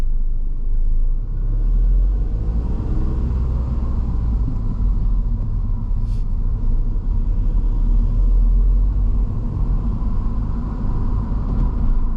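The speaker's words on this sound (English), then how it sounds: "Then drive on when safe to do so." Steady low engine rumble and road noise from a car driving on during a driving test, heard from inside the cabin, continuous and fairly loud with no talking.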